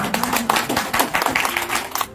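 Audience clapping at an offline community gathering in a Bekasi hotel, a dense, steady patter of many hands filling the room for a couple of seconds, with faint background voices.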